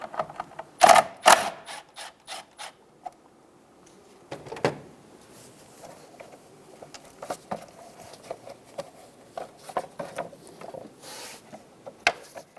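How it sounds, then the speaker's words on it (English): A 10mm socket ratchet loosening the top nut on a 2000-2007 Ford Focus during a knock sensor replacement, giving a series of close clicks and metallic taps with pauses between them. "Using a 10mm socket, loosen the top nut."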